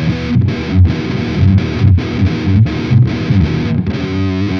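An electric guitar plays through a vintage-style amp impulse with heavy distortion, sounding loud and close in a chopped, rhythmic riff of short repeated chords with brief gaps between them.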